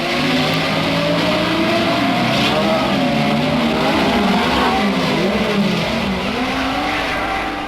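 Racing cars lapping a 3-mile circuit in a race contested by Brabham and Surtees, engines droning loud and continuous with shifting pitch throughout, no voices.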